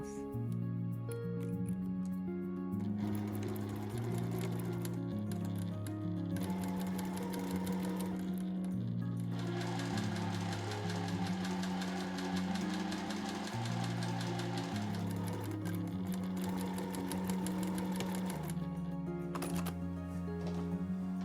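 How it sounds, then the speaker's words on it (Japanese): Sewing machine stitching side pockets onto a dress, a loud, steady rapid whir with short pauses and restarts, heard up close over quiet music. "そうしたら周囲のポケットの方も縫います。"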